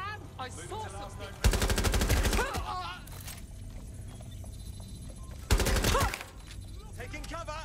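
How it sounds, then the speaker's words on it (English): Video game gunfire in Watch Dogs: Legion, two loud bursts of rapid automatic fire separated by quieter stretches with game voices and ambient sound. "I'm hearing gunshots."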